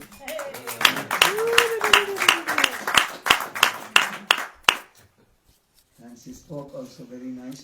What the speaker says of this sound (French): Ce programme, ce Harikatha, ce soir, on peut l'applaudir